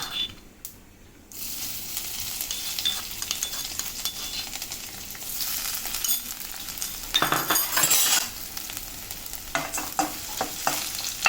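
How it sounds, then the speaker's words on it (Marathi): Cumin seeds and crushed garlic frying in hot oil for a mixed sprouts curry, a bright steady sizzle close by with intermittent spoon stirring and metallic clinks against the pan. "लसूण चांगला भाजून घेऊया"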